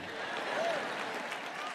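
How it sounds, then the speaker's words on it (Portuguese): An audience at a sermon claps briefly, a moderate blur of applause mixed with crowd voices and chatter. "Você não bate palmas para isso?"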